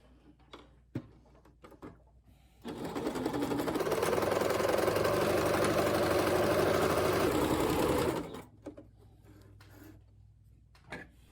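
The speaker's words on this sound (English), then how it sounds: "use a long straight stitch to baste across the raw edge" A sewing machine runs a long straight basting stitch across the raw edge of a towel. It hums steadily for about five and a half seconds and is framed by soft handling clicks before and after.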